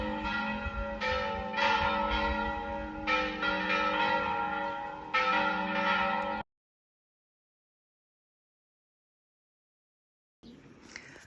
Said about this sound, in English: Church bells telling us that it is what? Oh, it's 11:23 and they're going off.